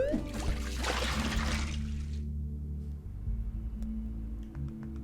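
Water pours from a water jar in the Recursed video game, a rushing splash for about two seconds that cuts off and leaves a low steady hum and a few faint ticks.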